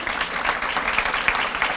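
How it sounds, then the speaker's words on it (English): An audience at an education seminar claps for the principals, a brief burst of dense, steady applause from a mid-sized indoor crowd. "let's give them a round of applause"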